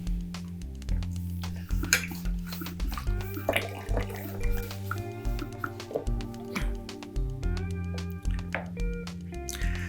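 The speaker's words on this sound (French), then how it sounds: "on va compléter jusqu'ici avec de l'eau" Tap water runs into a plastic winemaking kit container, a continuous splashing fill with shifting tone over steady background hum and clunks, heard close for the whole stretch.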